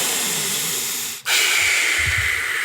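Deep, controlled breathing, one long steady hissing exhale, a brief pause, then a sharp inhale that settles into another sustained airy breath, close and loud.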